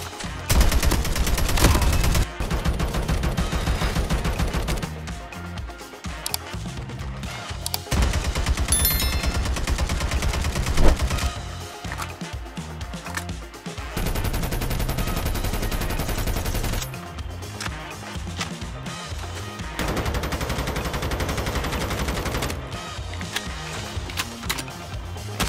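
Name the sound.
gunfire from weapons in Call of Duty Mobile video game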